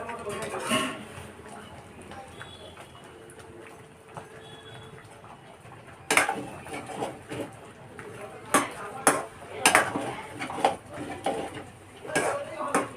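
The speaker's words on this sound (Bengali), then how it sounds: "ঢাকনাটা তুলে আরেকবার একটু নেড়ে দিচ্ছি, না নেড়ে দিলে নিচে লেগে যাবে।" A pot lid lifts and a spoon stirs prawn chicken dum biryani, giving scattered metallic clanks and scrapes, louder and more frequent in the second half, while someone talks.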